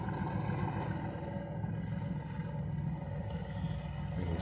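A home-made generator engine runs with a low, steady rumbling drone at moderate volume, with no voices over it.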